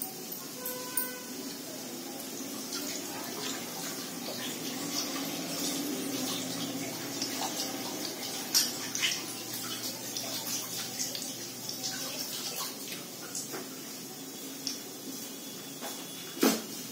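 Tap water runs steadily into cooking pots and utensils left to soak in a kitchen, a continuous splashing rush with occasional clinks of metal.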